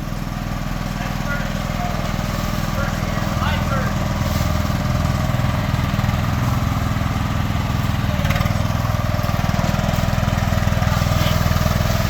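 Honda lawn tractor with four-wheel steering and full-time four-wheel drive, its rare engine running steadily at close range with an even low drone throughout, voices talking over it.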